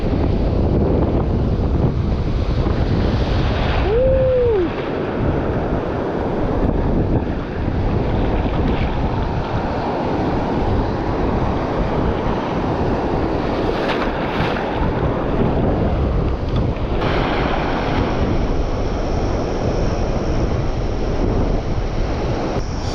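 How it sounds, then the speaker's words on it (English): Wind buffets a small fishing boat on the open water off a chilly coastal campsite, with waves splashing against the hull in a steady, continuous wash, loud and close, without any talk. "Now the waves be splashing even makes it more uncomfortable."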